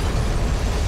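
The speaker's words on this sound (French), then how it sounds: "il y a une explosion nucléaire en face" A nuclear explosion in the game F.E.A.R. roars as a dense, loud, sustained rumbling blast filling the whole moment, with no voices.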